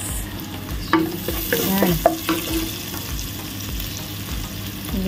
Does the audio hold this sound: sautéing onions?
yes